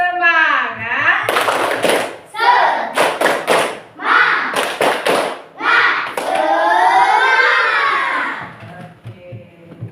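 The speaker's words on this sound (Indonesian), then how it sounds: "tepuk semangat." A primary school class claps out a rhythmic spirit cheer in bursts of sharp, loud thuds, mixed with children's shouting voices and a teacher's speech throughout.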